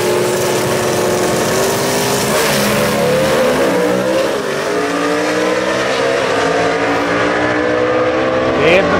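Gasser drag race cars roar at Knoxville Dragway, loud engines revving and accelerating continuously with shifting pitch, the sound of a pair of cars going down the strip, with an announcer talking over it.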